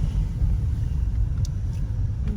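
A car drives out of Kraków, its engine and road rumble a steady, heavy low drone throughout with no one speaking.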